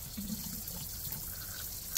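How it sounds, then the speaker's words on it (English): A steady, soft hiss of water flowing through a house's incoming supply pipe runs continuously, faint and even, with no voices. "So this is the water coming into the house."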